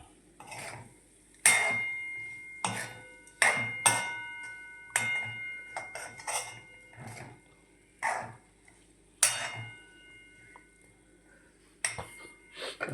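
A spoon stirs cauliflower curry with turmeric and spices in a pan, a series of sharp metallic clinks and scrapes spaced irregularly, close and fairly quiet.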